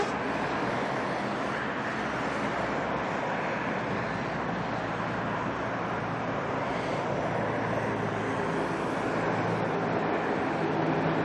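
An airliner, Air New Zealand flight NZ 945 in from Rarotonga, passes at Auckland Airport with a sustained broadband jet roar. The roar holds steady and fairly loud over distant background noise, and no one speaks.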